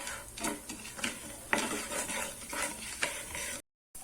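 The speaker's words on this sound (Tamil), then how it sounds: "இப்போ பாருங்க, நல்லா பொரிய ஆரம்பிச்சிருச்சு" Cashew nuts fry in hot oil in a pan for garlic rice, a close, steady sizzle with a few stirring scrapes and utensil clinks before cutting off abruptly.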